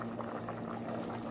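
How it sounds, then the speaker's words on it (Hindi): Rice boiling in water in a pot, a faint, steady bubbling and simmering texture with small pops, alone without talk. "चावल पानी में उबाल आ गए।"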